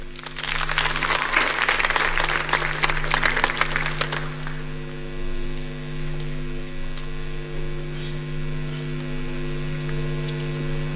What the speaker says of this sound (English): Let's give him a better hand of applause, please.